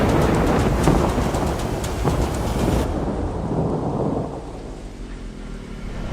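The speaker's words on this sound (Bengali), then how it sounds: "দূরে কোথাও যেন বাজ পড়ল।" Thunder rumbling in a stormy audio drama, a loud, heavy roar with rain and wind that gradually fades into a softer rumble.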